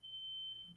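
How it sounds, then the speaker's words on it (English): A steady high-pitched electronic tone holds for nearly the whole moment, faint and somewhat distant, like a smoke alarm sounding in another room. "there's a smoke alarm going off"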